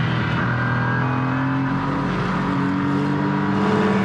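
An Acura NSX GT3 race car screams at full throttle on a circuit, its engine a loud, sustained, harmonically rich howl that climbs steadily in pitch, heard from on board with no voices.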